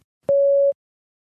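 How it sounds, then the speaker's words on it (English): A single clean electronic beep marks the start of a spoken-answer recording in a TOEFL speaking practice exam, lasting under half a second, loud and isolated in silence. "Please begin speaking after the beep."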